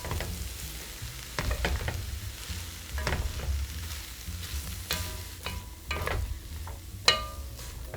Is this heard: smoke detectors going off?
no